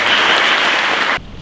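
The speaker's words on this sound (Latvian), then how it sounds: "Aplausi!" Audience at a school award ceremony applauding, a loud, dense burst of clapping that cuts off abruptly near the end, leaving quiet room tone.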